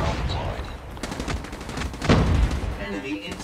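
HVK-30 rifle fire in Call of Duty multiplayer, rapid gunshot bursts with a heavier hit near the end, loud and busy over game effects.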